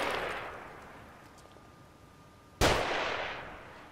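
A single sharp gunshot in The Evil Within cracks out loud and close, stepping out of a quieter in-game ambience with a steady tone, then leaves a lingering reverberant tail.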